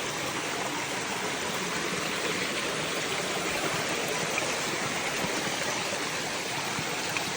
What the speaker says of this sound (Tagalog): Mataas po yung falls actually